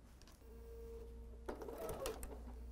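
A sewing machine running a half inch seam through a bulky quilted tote, its motor starting partway in and whirring steadily at close range in a quiet room.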